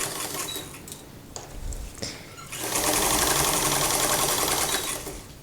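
A sewing machine runs a seam straight over lace on a Gunne Sax–inspired dress, starting with a few short bursts and handling noises, then settling into a steady, loud, continuous stitching whir that runs to the end.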